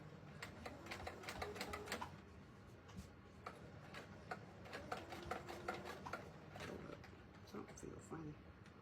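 A sewing machine back stitches and runs along the sides of a large smiley face pillow, black thread on blue fabric, in rapid close rhythmic bursts with short pauses, while a person talks over it.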